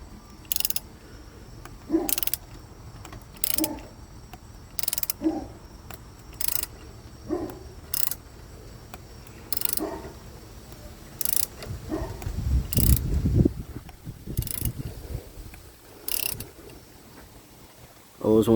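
A hand ratchet turns a bolt on the water pump of a 2007 Mazda 6 3.0, giving repeated bursts of close, sharp clicking at a steady pace with short pauses between strokes.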